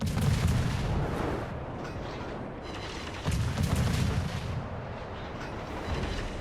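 Naval gun salvos boom in a World of Warships battle, a rumbling series of heavy blasts swelling in waves with rolling low-end thunder between them, loud and continuous with no voices.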